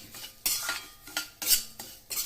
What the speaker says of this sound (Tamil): இந்த நெய்லையே ரவா எடுத்து வச்சுருக்கேன் ரவாவை போட்டு நல்லா செவக்க வறுத்துக்கணும்